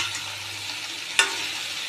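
Taro stolons fry with salt and turmeric in a pan, a soft, steady close sizzle with one brief sharp clink of a utensil.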